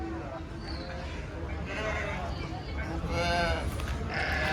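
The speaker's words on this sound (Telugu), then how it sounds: "మొత్తం గొర్రెలు ఇవి" Several sheep bleat at close range at a livestock market in Pileru, overlapping calls rising and falling over a low, steady background murmur.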